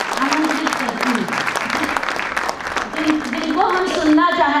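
A crowd at a Chandak Khap community event in Nagpur applauds loudly and steadily. Music and a voice run underneath the clapping, and a melodic tune rises toward the end.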